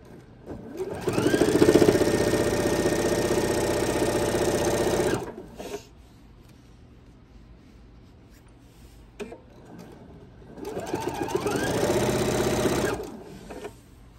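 A sewing machine stitches binding onto a quilt in two loud, steady runs of rapid mechanical whirring, about four seconds and then three seconds long, separated by a quiet pause.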